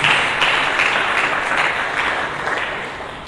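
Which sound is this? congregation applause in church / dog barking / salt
congregation applause in church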